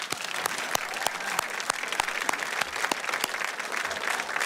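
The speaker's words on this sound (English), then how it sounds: "Let's honor him with a round of applause." Audience applause for an inductee at the NATAS Northwest Gold and Silver Circle awards ceremony: a steady, dense round of clapping that stays fairly loud throughout, with sharper individual claps standing out.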